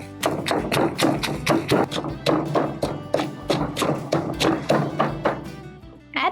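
Garlic, dry chili and salt are pounded in a mortar, about two dull, steady thuds per second repeating closely, with no talk over them.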